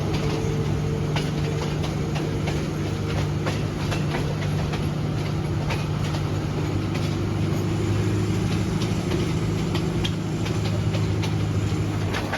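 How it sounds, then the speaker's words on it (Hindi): The Awam Express passenger train, travelling from Rawalpindi toward Peshawar, picks up speed with a constant heavy rumble and a steady run of rhythmic wheel clacks, loud and close, without voices. "इधर से हमारी ट्रेन भी अपनी स्पीड पकड़ रही है"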